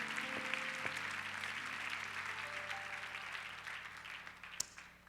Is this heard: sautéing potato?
no